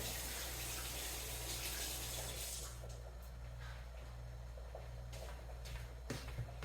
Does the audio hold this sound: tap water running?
yes